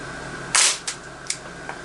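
A suppressed AR rifle fires a subsonic Remington round indoors: one sharp, muffled crack, followed by a few lighter metallic clicks and clinks in the quiet room.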